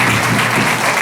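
A school Republic Day audience claps together in a brief, loud, continuous burst.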